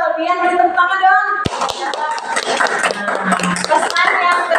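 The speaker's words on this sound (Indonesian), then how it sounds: "Biar tepuk tangan dong." A group claps hands together in a burst of applause after a voice speaks, the clapping steady and close for several seconds.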